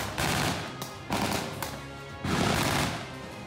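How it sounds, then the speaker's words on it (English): Bursts of rapid gunfire echo through a mock city during an urban warfare training exercise, several loud volleys separated by brief lulls. "The urban warfare exercise used a high-tech laser system to simulate a"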